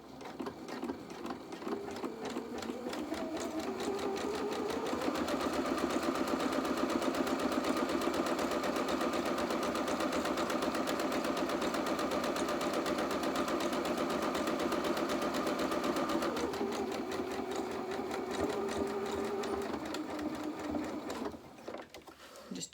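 A domestic sewing machine runs a zigzag stitch, 3.5 length and 1.5 width, along the binding of pyjama bottoms, a steady close-up motor whir that holds for about fifteen seconds, drops slightly in pitch and then winds down.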